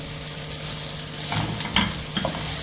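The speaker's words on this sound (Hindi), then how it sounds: "कैबेज डालते हैं" Cabbage going into a pan of sandwich filling sizzles and fries steadily, with a couple of stirring scrapes near the middle; no talking.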